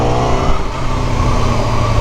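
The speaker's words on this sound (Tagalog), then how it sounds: "yung bawat tunog ng makina sa mga rev natin" A Honda CBR1000RR-R Fireblade SP superbike engine held at steady high revs, a dense loud mechanical drone with strong low harmonics and a bright rasp, continuous and close without any talking.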